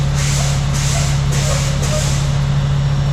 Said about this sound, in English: We're now going to pump the brakes to bring it below 90